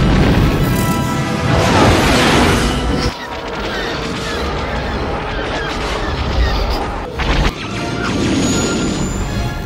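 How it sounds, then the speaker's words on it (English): An explosion sound effect crashes and booms loudly, with heavy rumbling bursts and a second sharp impact later, spread across a noisy, dense stretch without clear speech. "There's always an explosion at the end."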